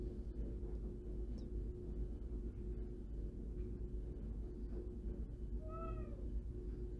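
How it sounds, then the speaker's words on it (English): A house cat gives a single short meow near the end, set against a steady low hum and faint rustling while crochet work goes on. "There's my kitty."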